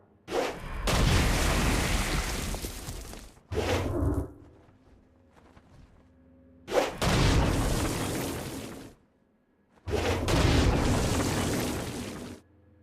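Stone Blast attacks in Saints Row: Gat Out of Hell go off as loud, roaring bursts, each lasting a few seconds, with four blasts separated by short quiet gaps.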